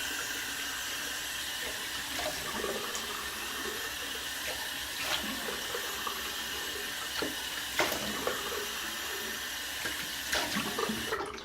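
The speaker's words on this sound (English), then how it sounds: "Cold water rinse real fast." Cold water runs steadily from a tap for a quick rinse, a soft broadband splashing flow with occasional clinks and small knocks, moderately near and without talk.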